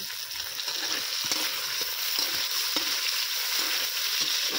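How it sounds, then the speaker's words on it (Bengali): Chopped tomato fries with softened onions in hot oil, giving a steady close sizzle with occasional soft stirring clicks and no talking. "পেঁয়াজের সঙ্গে টমেটোটাও আমি ভেজে নেবো"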